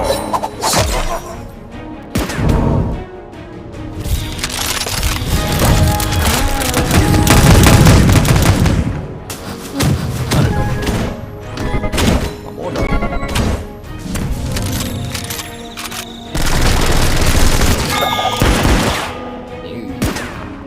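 Blunderbuss firing in the Puzzle Combat video game, heard as loud repeated booming volleys and crashing impacts in several waves, mixed with game effects and no voice over them.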